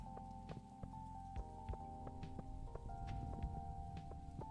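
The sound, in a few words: rain in Stardew Valley video game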